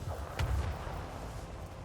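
Starship salvo fire in Warhammer 40k: Rogue Trader, a short deep booming volley with a brief sharp crack near the start, then a low rumbling tail, fairly quiet with no talking.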